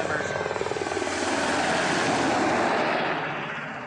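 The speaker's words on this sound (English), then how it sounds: "We have the helicopter about to deploy the swimmers" A Coast Guard helicopter hovers low over water during a rescue swimmer deployment drill, its loud, steady rotor roar filling the whole clip with a rapid thumping beat and broadband wash.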